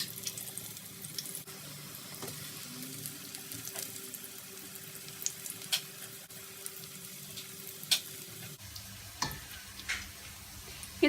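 Potato and onion pakoras frying in hot oil, with a steady close sizzle and bubbling and occasional clinks from a utensil, no talking.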